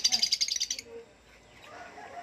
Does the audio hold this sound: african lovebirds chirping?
yes